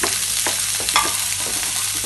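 Two small onions sizzling in oil in a frying pan for Thalassery thengamuri give a continuous close hissing crackle, with a few soft scrapes and pops rising above the steady fry.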